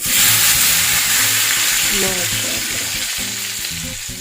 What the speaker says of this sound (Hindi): जल्दी से अब इसका तड़का तैयार करते हैं। तो चलें इसको लगाते हैं तड़का।